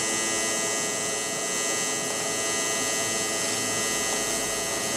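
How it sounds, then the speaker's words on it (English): A TIG welder runs steadily on a cracked Kawasaki KX250 motorcycle part, giving a continuous buzzing hum with a fizzing hiss across the whole span and no voices. "So we'll turn on the welder."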